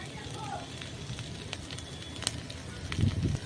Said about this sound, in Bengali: লবণটা দেওয়ার পরে ভালোভাবে আবারও ভেজে নেব